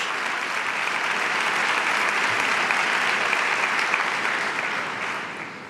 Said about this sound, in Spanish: al pregonero, Francisco Bercano, que agradece los aplausos.